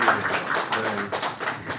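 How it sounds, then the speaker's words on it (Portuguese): Audience applause at the opening session of a national press freedom conference, a moderately loud spatter of hand claps that rises and thins over a couple of seconds, with no voices. "Peço uma salva de palmas como sinal de recepção"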